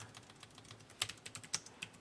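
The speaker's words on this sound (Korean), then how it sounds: "그 다음에 타이핑 쳐주겠습니다." Someone types on a computer keyboard, producing quiet, irregular keystroke clicks with a few sharper taps close together.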